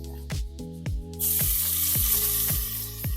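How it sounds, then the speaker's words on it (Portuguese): Beef chuck sears in olive oil in a pan: after about a second a loud, steady sizzle bursts up and holds, with soft rhythmic knocks of the meat settling underneath. "a gente entra com um pouco mais de azeite e o restante da nossa carne"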